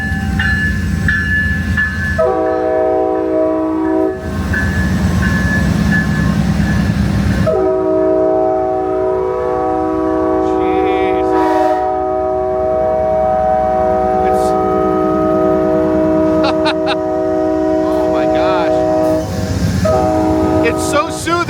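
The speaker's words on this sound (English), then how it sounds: "Oh, that whistle is loud up here." A loud, sustained passenger train horn blasting close by on the Sunset Limited in the desert near the Mexican border, with a couple of brief pauses between long chord-like blasts, over rumbling rail noise.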